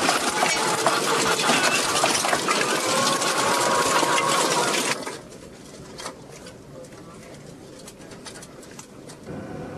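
A loud, dense din of many confined hens in a large egg farm shed, with constant clucking and rattling of cages. It drops suddenly about halfway to a much quieter background hum.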